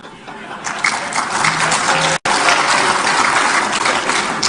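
An audience at a political gathering applauds with loud, close, continuous clapping that runs for several seconds with a brief dropout partway through.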